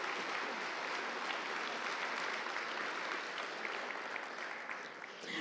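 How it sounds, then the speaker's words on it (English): An audience at the ReaperCon 2023 miniature painting awards ceremony applauds steadily, a dense, even clapping from a large crowd that carries on throughout and tapers slightly at the end. "Let's get a round of applause."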